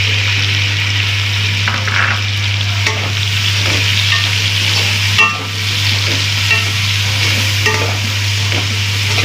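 Tomatoes added to fried onion cook down in a pan for taro root and brinjal salan, a loud continuous sizzle with repeated close spatula scrapes and a steady low hum underneath.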